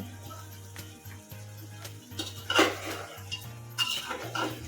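A spoon scrapes and clatters in a pot as potatoes are stirred into a spicy layer-chicken curry, with irregular metallic knocks and scrapes over a steady low hum from nearby.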